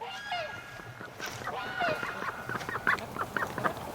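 A female Muscovy duck calls outdoors in winter, a few short squeaky honks and quacks up close, with a quiet voice speaking nearby.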